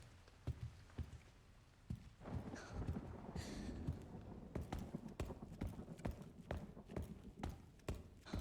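Clopping horse hooves in a video game beat in a steady, close rhythm, with a faint rustling background, as a horse walks along.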